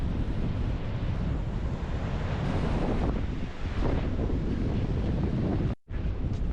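Wind and surf roar continuously along the East Coast shore at Skegness, a loud, broad rush of waves mixed with gusts buffeting the microphone, with a brief dropout near the end.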